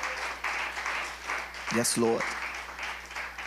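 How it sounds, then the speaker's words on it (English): Church congregation clapping hands during a sermon on the Holy Spirit, a soft steady patter of claps beneath a voice speaking briefly in the middle. "Come on, clap your hands. It's okay to clap."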